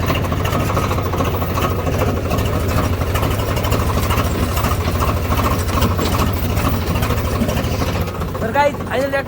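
Tractor engine idling steadily on a farm during sugarcane trolley loading, a continuous close low throb with light voices and clatter near the end.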